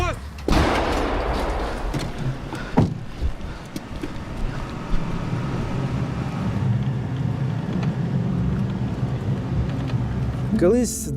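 Two artillery shells are fired in a wartime combat setting, heard as a loud booming blast near the start and a second heavy report a couple of seconds later, followed by sustained wind-buffeted rumble and a final crack near the end.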